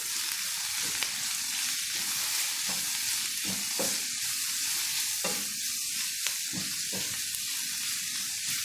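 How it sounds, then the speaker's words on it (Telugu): Onion pieces fry in a pan alongside paneer with a steady, close sizzle, broken by occasional scraping of a spatula as they are stirred, with no talking. "ఉల్లిపాయ ముక్కలు కూడా బాగా వేగితేనే బాగుండేది ఇంకా కొద్దిసేపు వేగనిద్దాము"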